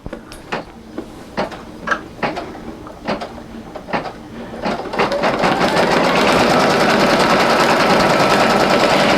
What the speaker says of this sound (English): That's what's going to stitch right now.